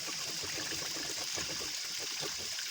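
Water trickles and splashes steadily into a container being filled from a spring tap, a constant close rushing flow with no talk.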